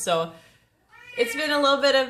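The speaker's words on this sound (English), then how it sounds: "That was my cat yowling down here." An old cat yowling indoors, drawn-out meowing cries close by that blend with a voice talking over them.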